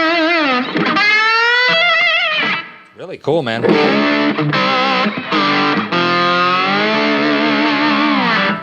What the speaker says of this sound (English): So here's the brass slide. Yeah. Take a listen to this. By the way, we're plugged into this PV Bandit Supreme pedal.